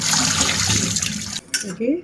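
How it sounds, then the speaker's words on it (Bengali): Green chilies rinsed under a running tap in a home kitchen, a steady splashing water flow for about a second and a half, then stopping, with brief voice sounds and handling noise after. "কাঁচামরিচগুলো ধুয়ে নেব"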